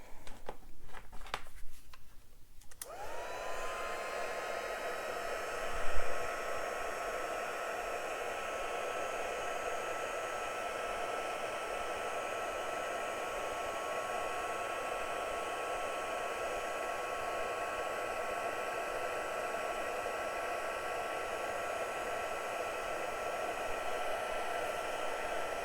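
A heat tool blows hot air steadily over a mini fir-tree stencil, a continuous close, loud whooshing roar with a faint high whine that starts after a brief rustle and runs unbroken.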